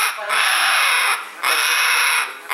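A pet parrot in a Brazilian home lets out loud, harsh squawks: two long, raspy screeches close to the microphone, separated by a brief gap.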